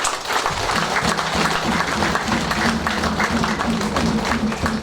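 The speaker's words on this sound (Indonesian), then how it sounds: "Jadi kita kasih tepuk tangan untuk Bapak Kepala Distrik." Crowd at a ceremonial field inauguration applauds the district head, a sustained, fairly loud round of clapping with a low tonal hum of voices or music beneath.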